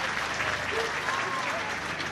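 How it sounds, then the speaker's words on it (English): A rugby crowd at Scotstoun gives a warm, steady round of applause, a soft wash of distant clapping filling the stadium air under faint commentary. "Dueba gets a warm round of applause from the Scotstoun faithful"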